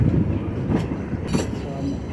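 Rail cars of a North Central Railroad train near New Freedom rumble by at close range, with a couple of sharp clanks over the continuous rolling noise.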